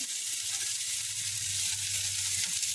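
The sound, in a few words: green chili added to hot oil for tempering, sizzling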